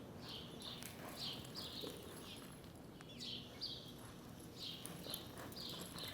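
Faint, distant horse hooves clip-clop at a walking pace, with repeated bird chirps overhead in a quiet outdoor setting.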